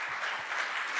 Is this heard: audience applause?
yes